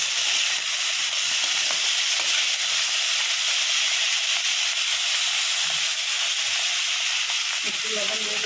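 Ridge gourd peels, onion, garlic and green chilies fry together in a pan, giving a loud, steady, close hiss of sizzling oil that lasts the whole time.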